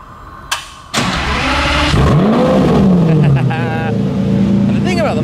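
A Lamborghini Murcielago fires up with a sharp starter burst, then the engine roars into a loud rising and falling rev before settling into a deep, steady idle close by.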